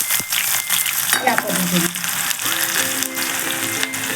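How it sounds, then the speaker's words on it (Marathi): Chopped onion sautéing in hot oil with cumin seeds in a pan for a Marathi peas-and-potato curry, a steady loud sizzle with scraping stirs of a spatula, and a faint tonal hum beneath. "आता हे आपला कांदा व्यवस्थित छान असा परतून घेऊयात"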